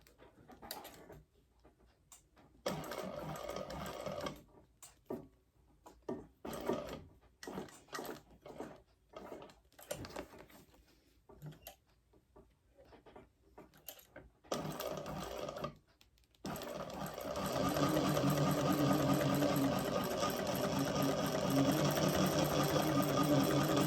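A sewing machine stitches a beginner bag with flat hardware, running in short stop-start bursts and then one long, steady run at the end. The whirring is close and mechanical, with no talking.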